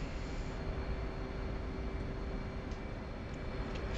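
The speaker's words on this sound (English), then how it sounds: "we're going to taxi the runway" Jet aircraft taxiing on a runway in a flight simulator game, a steady even engine hum and whine holding at moderate level throughout with no change in pitch, accompanied by faint light clicks.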